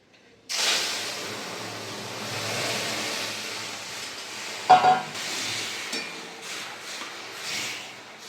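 Masoor dal with tomato hits a hot pan with curry leaves in a sudden burst of sizzle. It settles into a steady bubbling hiss, with a couple of utensil knocks partway through.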